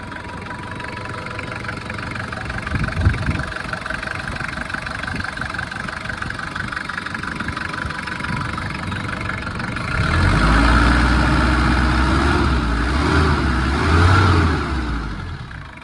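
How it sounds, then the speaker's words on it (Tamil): A Tata Sumo Victa diesel engine with an oil consumption fault idles steadily with a rough knocking clatter, close by, swelling briefly louder twice as it revs slightly. "இந்த சுமோ விட்டால வந்து பார்த்தீங்கன்னா இன்ஜினை நான் ஸ்டார்ட் பண்ணிட்டேன்"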